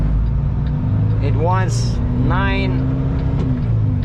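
A heavy truck engine with a 3.91 ratio strains and lugs while pulling away in first gear on a nine-axle rig, a steady low rumble running throughout with a short voice speaking over it.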